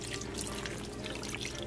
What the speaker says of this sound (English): Dumping that in, and then we're gonna add half a cup of the juice.